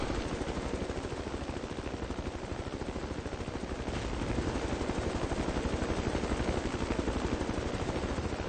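Helicopter in the Battlefield 2 video game, its rotor chop beating steadily and loudly throughout, with a dense engine roar and no voices over it.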